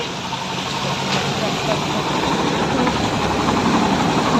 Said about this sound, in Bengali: ওই দেখো আসছে বাইক নিয়ে